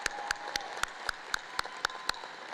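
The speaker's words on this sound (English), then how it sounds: "stand up and give her a round of applause" Sparse, evenly spaced claps at a high school commencement ceremony, about nine distinct sharp hits at a steady rhythm over a faint hum, sounding like a single person or small group clapping rather than a full crowd.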